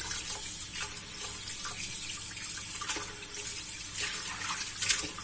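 Tap water runs steadily into a sink as anchovies, already rinsed in corn flour, are washed, with a soft continuous splashing and a few faint clinks, close and quiet, with no talking.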